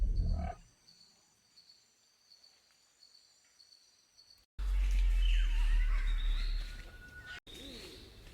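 A Monster Hunter video game creature lets out a sudden loud, harsh cry with shrill screeching sweeps and a heavy low rumble, bursting in after several seconds of near silence and faint clicks.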